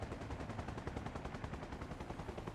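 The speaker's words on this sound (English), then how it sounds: "I'm opening fire." Rapid sustained gunfire in the military video game ARMA Reforger, a continuous rattling burst of automatic shots, fairly faint and distant-sounding, with no talking.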